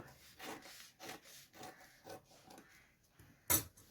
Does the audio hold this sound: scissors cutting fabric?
yes